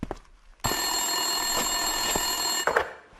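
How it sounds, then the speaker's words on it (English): A telephone rings in the Max Payne 2 video game, a loud, continuous electronic ring lasting about two seconds, with brief lower thumps before and after it and no talking. "Winterson's phone was ringing."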